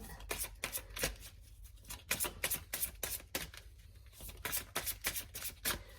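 A deck of angel oracle cards being shuffled by hand, a steady run of quick crisp riffling flicks and card slaps, close and fairly quiet, with no talking.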